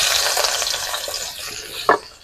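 Chopped onion drops into hot oil already seasoned with cinnamon, cloves and cardamom, giving a loud hissing sizzle that slowly settles, with a brief clink near the end.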